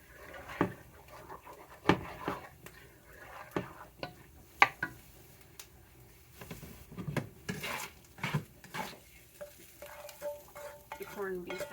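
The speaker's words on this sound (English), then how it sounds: "Giving that a stir." A spoon scrapes and knocks around a pot of black beans with chili powder, making intermittent clinks and soft sloshing stirs, quiet and close with brief pauses between strokes.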